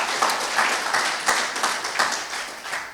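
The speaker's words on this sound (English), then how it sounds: "Let's give Mr. White another round of applause" Audience clapping after a talk on textile history in Rutherford County, a brief, moderately loud spatter of applause with a few sharper individual claps over about three seconds.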